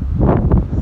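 Very strong wind gusting outdoors in Governador Valadares, Brazil, a loud low buffeting roar battering the microphone in close, heavy blasts.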